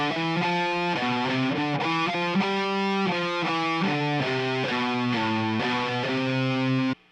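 A distorted electric guitar plays a fast shred lick built on an anchor shape, with steady cascading runs that rise and fall over about seven seconds, loud and close with no voice over it.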